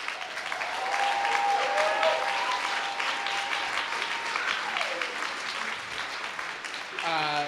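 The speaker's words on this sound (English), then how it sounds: "Applause for the nominees." A crowd applauding steadily, clapping swelling then holding at a moderate level, with a few whistles and voices mixed in near the end.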